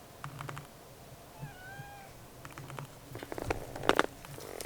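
A pet cat in a van during a heat wave gives a faint, short meow amid quiet clicks and tapping.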